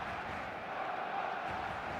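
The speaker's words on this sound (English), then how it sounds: "There's a real expectant buzz in the stadium" Steady expectant stadium crowd buzz at a football match in eFootball 2026, a continuous mid-level murmur with no distinct cheers rising out of it.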